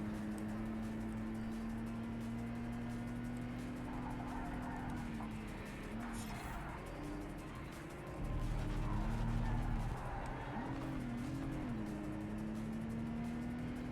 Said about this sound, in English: Wow, I really spun out that Supra